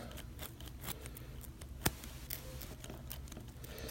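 Victorinox scissors snip through a folded paracord loop, a single sharp cut standing out against quiet room noise, with a few faint handling rustles around it.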